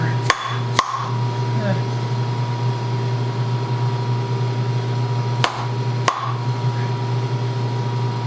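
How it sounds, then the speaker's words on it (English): Metal hammer taps on a 5C fixture plate for a Hardinge lathe in a machine shop, four sharp separate strikes over a steady low machine hum. "See how it feels with the hammer."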